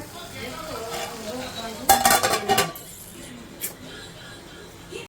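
Okra and potato curry with tomato cooks in a pan with a soft, steady sizzle, broken midway by a brief burst of close utensil clatter and scraping, with faint talk in the background.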